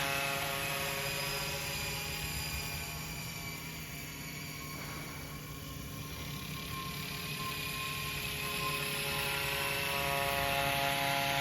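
FlishRC FL500 EC135 radio-controlled helicopter in flight, a steady high-pitched turbine-like whine with a constant rotor hum, faint and unbroken throughout, with no talking.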